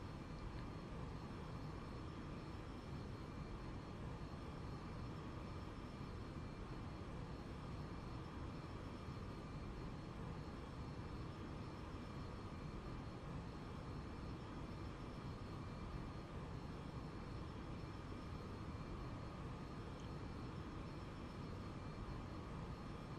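An aircraft engine in the X-Plane 11 flight simulator powers up for takeoff as a steady, faint, continuous roar that holds constant the whole time, with no speech.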